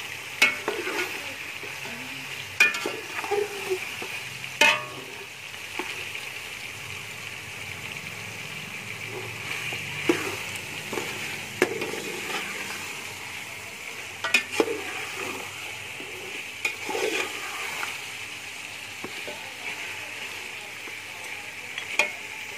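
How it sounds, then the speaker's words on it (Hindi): Ghee sizzles steadily in a pan while frying for yakhni pulao, with scattered stirring scrapes and clinks over a constant bubbling hiss. "घी में फ्राई कर लूँगी।"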